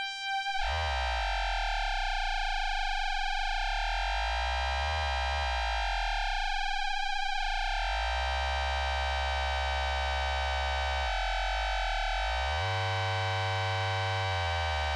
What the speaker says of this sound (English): So I'm sending LFO 2 into the pulse width.